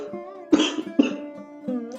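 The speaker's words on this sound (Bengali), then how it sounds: "খুব কাশি হয়েছে, ঠান্ডা লেগে গেছে ভিডিও করতে গিয়ে আরও" Someone with a cold gives two sharp, close coughs about half a second apart over a steady tonal background.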